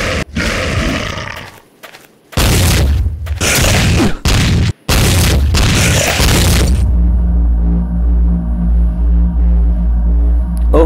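Repeated heavy shotgun blasts from the FPS video game Devil War, loud booming bursts separated by short gaps, then giving way to a sustained low rumbling game soundscape.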